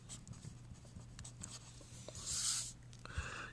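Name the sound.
writing out an equation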